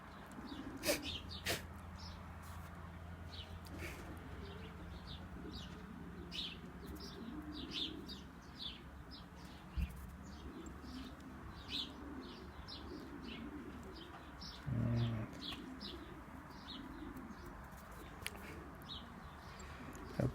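An injured pigeon, wounded in an attack by a bird of prey, coos softly over a steady background hum, with frequent high chirps and twitters throughout and a brief louder sound near the middle.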